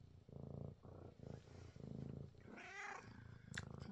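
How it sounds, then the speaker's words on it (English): Close, rhythmic purring from a cat, a low rumbling cycle of breaths in and out, with a brief higher chirp-like sound near the end. "I'm really sorry if you can hear my cat purring throughout this."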